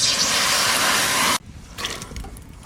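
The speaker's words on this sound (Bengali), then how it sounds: "কড়াইতে একটু জল দিয়ে দিচ্ছি।" Water poured into a hot cooking pan for boiling banana flower in a Bengali kitchen gives a loud, steady hissing rush for over a second, then cuts off abruptly into quieter sizzling and bubbling.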